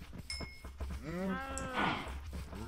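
Minecraft cows low in a short run of blocky, game-style moos, one drawn out and another rising, set against a soft ambient background.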